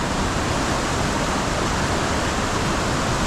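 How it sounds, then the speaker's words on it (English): Fast-flowing water at Valley Falls State Park rushes in a loud, dense, continuous roar like a waterfall, close and unbroken, with no talking. "the water down there is moving so fast it almost makes my head spin"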